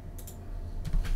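Computer keyboard keys are pressed in a couple of quick clicky pairs at close range during photo editing work, with a low hum underneath.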